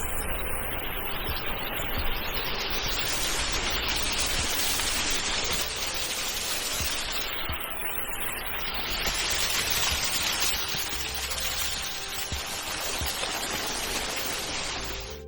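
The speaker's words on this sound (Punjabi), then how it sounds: "ਮੌਸਮ ਬਹੁਤ ਸੋਹਣਾ ਮੀਂਹ ਪਈ ਜਾ ਰਿਹਾ ਆ" Rain falls on a mountain trail on the route from Hemkund Sahib toward Badrinath, a dense, even hiss of steady rainfall that stays loud and unbroken without voices.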